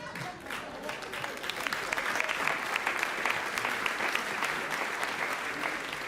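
A stand-up comedy crowd applauds with steady, dense clapping that holds at an even level throughout, with no break.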